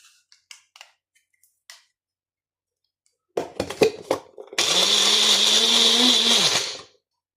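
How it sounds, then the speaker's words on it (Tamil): A mixer grinder grinding spice paste for egg kurma whirs loudly and steadily for a couple of seconds, preceded by a few light clicks and knocks as it is set up. "இப்போ இது எல்லாத்தையும் நல்லா கிரைண்ட் பண்ணிக்கலாம்"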